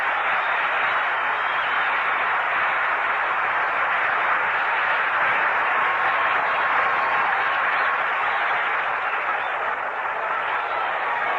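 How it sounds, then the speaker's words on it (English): A baseball crowd applauds pitcher Roebuck during the 1962 San Francisco Giants vs Los Angeles Dodgers tie-breaker game, steady dense clapping that holds at an even level for over ten seconds, thin and far off. "A round of applause for Roebuck."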